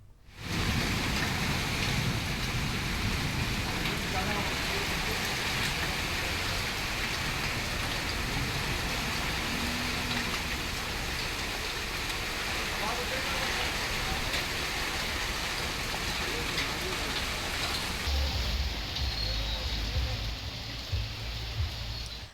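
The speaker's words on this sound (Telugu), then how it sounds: "హైదరాబాద్ను భారీ వర్షం అతలాకుతలం చేసింది." Heavy rain pours steadily over Hyderabad, a dense continuous hiss of downpour lasting throughout, with a deeper rumble entering near the end.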